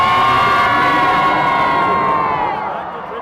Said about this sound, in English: So the last cheer will come from everybody who's sitting here